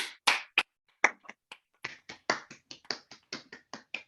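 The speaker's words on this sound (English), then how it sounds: "I would like everyone who is willing to turn on your camera or at least your microphone and give Molly a round of applause." Online audience members clap and snap fingers over open microphones after a presentation on a high school astronomical spectroscopy research project, sparse separate bursts of snapping and clapping arriving one after another, fairly close and uneven.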